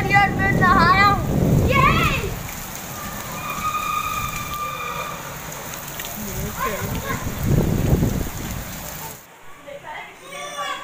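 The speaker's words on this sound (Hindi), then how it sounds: "इस वक्त बारिश हो रही है और मैं नहा रहा हूँ" Heavy rain falls steadily as a broad hiss throughout, while someone talks over it and some higher tones come and go; the downpour cuts off abruptly near the end.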